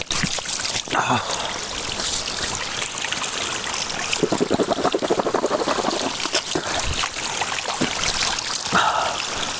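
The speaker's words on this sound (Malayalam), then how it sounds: "നല്ല തേനരുവി." Steady running water of a forest stream trickles and burbles throughout, a close, continuous flow with brief louder splashes here and there, after heavy rain.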